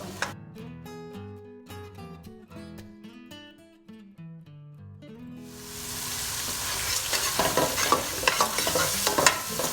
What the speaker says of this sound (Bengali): এখন আমি মশলাটাকে ভালো করে কষিয়ে নেব।